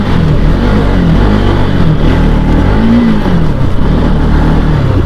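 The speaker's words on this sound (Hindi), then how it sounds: "बहुत ज़्यादा ट्रैफिक है यार मार्केट में इधर की" Busy market-street traffic: a steady, loud wash of car and motorbike engines with revving and passing vehicles, continuous and close throughout, no voices.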